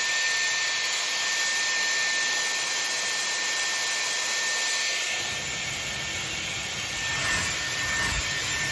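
Dyson Airwrap hair styler blowing on high speed with medium heat, paddle brush drying hair, a loud continuous whooshing roar with a steady high whine, shifting in tone as the brush moves through the hair.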